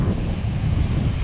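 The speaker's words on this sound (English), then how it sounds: "So sorry if you can hear the wind." Strong wind roars against the microphone in a constant low, blustery rumble on a beach, with rough ocean surf washing underneath.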